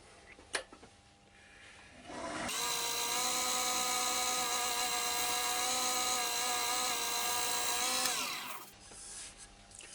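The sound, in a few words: scraper smoothing a spinning ash wood bowl on a lathe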